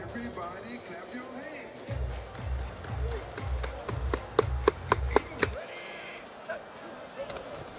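Crowd clapping at the Pro Bowl football game, a run of sharp, spaced claps rising over a low rumbling crowd and field noise, with voices talking throughout.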